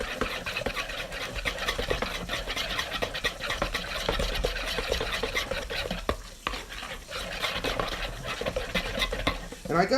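A flour mixture whisked briskly in a bowl makes a rapid, continuous rhythmic scraping and clatter, close and steady, with a short pause partway through before the whisking resumes. No voices are heard.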